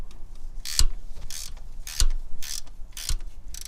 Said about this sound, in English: Now I'm going to do the rest with a regular wrench.